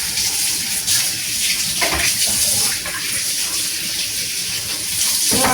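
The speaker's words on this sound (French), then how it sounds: "On se lave les mains." Hands being washed under a running kitchen tap, a steady loud gush of water splashing into a sink with brief shifts in the flow as the hands move, no talking.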